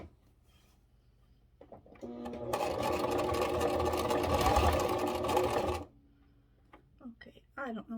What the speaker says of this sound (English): I've got my machine re-threaded, so I'm just going to continue stitching